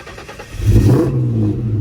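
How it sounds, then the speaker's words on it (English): A Ford Mustang engine cranks and nearly fires, a close, loud surge that rises into a brief revving roar before settling into a steady drone, with no talking. "Oh, did it almost start?"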